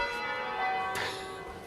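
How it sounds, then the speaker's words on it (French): Church bells ring with sustained, overlapping metallic tones that hum and shimmer, a fresh strike blooming partway through, fairly loud and close. "Ça te fait quoi quand t'entends les cloches comme ça?"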